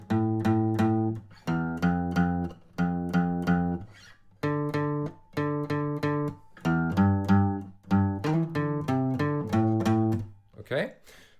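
Acoustic guitar plays a riff at a slow tempo, repeated strummed chord groups in a steady rhythm, close and clear with no talking.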